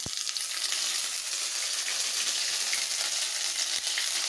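Ground spice paste fries in hot oil for a lau ghanto, a dense, continuous close sizzle with faint stirring clicks, loud and unbroken, with no talk.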